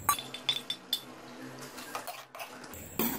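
Yogurt stirred into mutton tripe in a metal pot, with light spoon clinks and scrapes against the pot in an irregular run, faint and close, with no talking.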